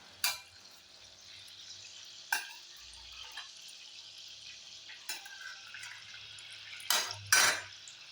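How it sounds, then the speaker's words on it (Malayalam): Chicken pieces drop into a pan of hot butter and oil, setting off a steady, close sizzle broken by a few sharp clatters and louder bursts near the end. "ഇനി നമുക്ക് ചിക്കൻ ഇട്ട് കൊടുക്കാം."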